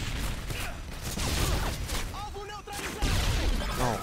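Bursts of gunfire crackle through a Modern Warfare 2 (2009) Xbox match, with repeated sharp shots and mechanical clatter mixed with game sounds and a person talking over the action.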